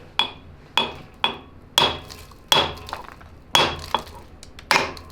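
Repeated sharp metallic hammer blows knock a broken crankshaft out of a Massimo MB-200 mini bike engine, about ten strikes at an uneven pace, each ringing briefly with a clanking tone.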